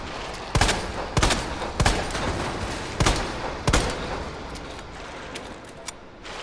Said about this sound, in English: It's like I'm tickling him with this gun.